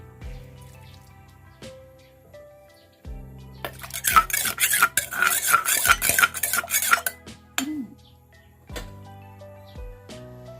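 A spoon scrapes and clinks around inside a metal pot, stirring curry paste into boiling water for red mushroom curry, in a flurry of strokes, with quieter knocks before and after.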